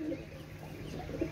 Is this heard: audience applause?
no